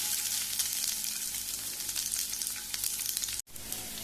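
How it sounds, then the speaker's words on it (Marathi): Garlic and onion frying in a little oil on a hot tawa, a steady close sizzle with soft crackles that carries on unbroken and cuts out abruptly near the end. "तातूंत घालता लसूण, एक घेतला कांदो।"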